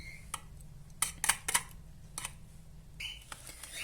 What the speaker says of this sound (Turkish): Elmaları şimdi küçük küçük doğrayacağız arkadaşlar.